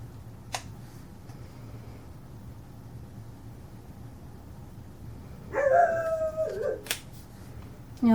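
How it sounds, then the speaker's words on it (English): Dogs at a home craft table break into howling and barking partway through, a few loud overlapping calls rising for about a second and a half, then a sharp yelp, over a quiet room hum. "You'll just have to excuse the dogs, they're going to be loud."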